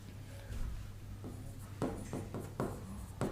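A pen writes on paper during a grammar lesson, moving in soft scratchy strokes that grow into several sharper, distinct scribbles near the end, close and quiet over a low background hum.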